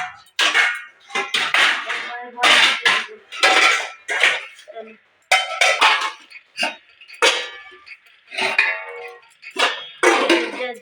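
Dishes and pans clink and clatter repeatedly as freshly made pitha is covered and put away in a village kitchen, close and fairly loud, with someone talking throughout.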